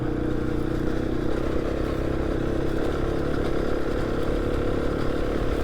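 A new motorcycle with its kit fitted, ridden steadily with a continuous close engine drone and rumble at an even pace, no voices.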